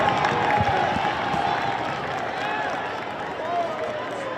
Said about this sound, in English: the Central bench looking for some noise from the home crowd behind them on a 3rd and 18